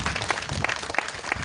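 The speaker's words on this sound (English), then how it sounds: "let us have a hand of applause to our SD" Audience applause at a university gathering in Uganda, a steady wash of clapping with a few sharper claps standing out, filling the short moment without speech.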